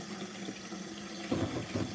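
Water runs steadily from a tap into a sink, a soft continuous hiss and splash at moderate distance, slightly louder toward the end, with no talking.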